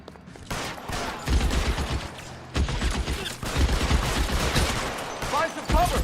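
Shootout in the LA Noire game, repeated bursts of gunfire in uneven volleys with sharp cracks and echoing tails, loud and near, with brief voices mixed in.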